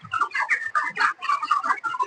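Broiler chickens in a partitioned poultry house cluck and chatter close by in dense, overlapping bursts, with no voices heard.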